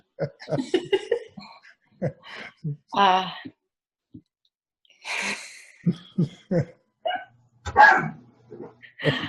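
A dog gives a few short barks close by among indoor family conversation, with people talking over and between the barks.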